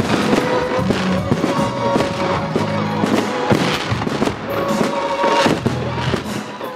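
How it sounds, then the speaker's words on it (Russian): Fireworks salute over Chita for the city's 171st anniversary, a dense, continuous barrage of loud bangs and crackling bursts layered with music, close and powerful. "Ночное небо в один миг засияло разноцветными огнями фейерверков в честь 171-й годовщины любимой"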